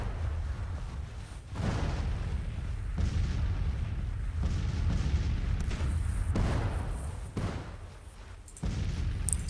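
Artillery fire in a Civil War video game battle at Washington D.C., a dense, continuous rumbling roar of distant cannon booms and blasts, loud and sustained with shifting surges, no speech.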